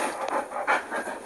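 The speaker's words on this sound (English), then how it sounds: "Can you hear my dog like panting in the background?" A dog pants in rhythmic bursts close to the microphone, sitting right beneath someone indoors, a soft breathy wheeze repeating steadily with no talk over it.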